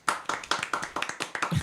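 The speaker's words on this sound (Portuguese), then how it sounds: "Palmas para quem compartilhou." Audience clapping in steady, quick rhythmic hand claps, fairly close and even in loudness throughout a short stretch.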